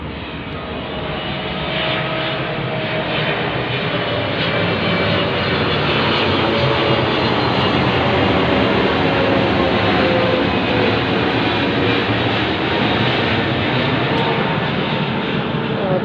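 Steady, loud roar of airplanes passing overhead, with a broad engine drone sustained across the whole span, rising slightly at the start and holding level.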